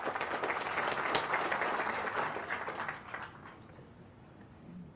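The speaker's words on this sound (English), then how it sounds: "A round of applause, ladies and gentlemen," An audience at a Defence Command and Staff College graduation ceremony applauds the Commandant, a dense wash of many hands clapping that swells, then fades out over a few seconds.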